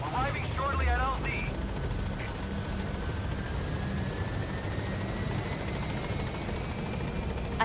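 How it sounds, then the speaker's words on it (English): A helicopter approaches a landing zone in Metal Gear Solid V, its rotor chop a steady thrum that holds throughout, with an engine whine and a brief voice near the start. "I hear the helicopter."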